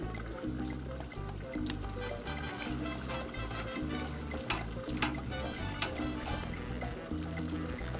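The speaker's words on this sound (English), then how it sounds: "There's nothing like cooking bacon on a Blackstone." Bacon strips sizzling on a Blackstone 22-inch griddle, a steady crackling hiss with scattered pops, fairly close and continuous with no talking.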